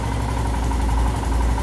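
A Royal Enfield Himalayan motorcycle engine idles steadily at a raised speed of about 1400 RPM after the idle screw is turned, a close, continuous low thrum with no talk.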